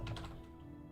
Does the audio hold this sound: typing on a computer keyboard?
yes